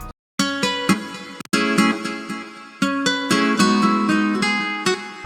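Bright guitar chords ring out in a series of strummed bursts with delay repeats, chorus shimmer and EQ, a widened tone, playing alone at steady volume.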